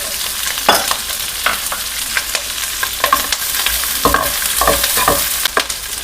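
Onion and capsicum are tossed and stir-fried over a full high flame for a Marathi-style chilli chicken, with a loud steady sizzle and repeated sharp clacks and scrapes of a spatula against the pan.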